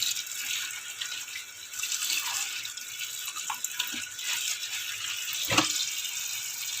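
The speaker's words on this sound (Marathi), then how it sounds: "तर आता मी स्वच्छ धुवून घेते दोन्ही हाताने भाजी." Spinach leaves are washed by hand in water, producing soft continuous splashing and swishing close by, with a few sharper drips and sloshes and no talking.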